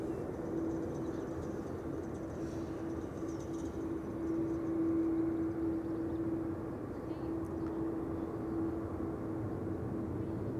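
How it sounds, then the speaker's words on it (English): A jet airliner arrives at Amsterdam Schiphol Airport, heard as a steady, distant roar with a faint hum running through it that swells slightly midway and then holds. "And a jet arriving from Istanbul as well."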